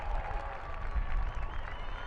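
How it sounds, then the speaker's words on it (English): A stadium crowd at a Utah Royals versus OL Reign women's soccer match, a continuous broad wash of cheering and applause heard at a distance throughout. "You can hear the crowd."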